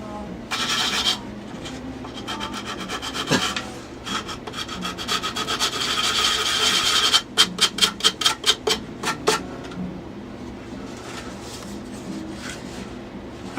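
Hand sanding a wooden piece to take off a small burr: bursts of dry scraping strokes, first in irregular runs, then a quick rhythmic series of back-and-forth rubs, close by against a quiet room.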